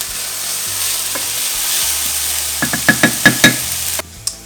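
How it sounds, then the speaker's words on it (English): Beef stew ingredients are stirred in a pot over a soft sizzle, ending with a handful of sharp spoon knocks against the pot rim, close up with no talking. "Just going to give these a quick stir."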